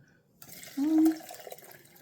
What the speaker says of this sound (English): just straining through a metal sieve